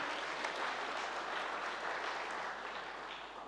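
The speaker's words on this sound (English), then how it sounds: "Everyone give him a round of applause." Audience applause for a guest pastor at a church-and-state public talk, steady and dense clapping from a crowd that sustains for several seconds and tapers slightly at the end.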